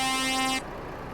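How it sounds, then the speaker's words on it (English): Air horn of a Euro 5 truck in a driving game, one steady, loud, brassy blast lasting about half a second and then cutting off abruptly, leaving a faint background hum. "Air horn."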